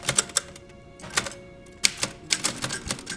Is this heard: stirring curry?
no